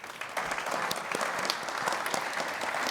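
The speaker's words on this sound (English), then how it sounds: "a massive round of applause for the panel" Audience applause for a conference panel at the close of a decentralized finance discussion, a steady dense clapping that runs throughout at moderate volume with no voices over it.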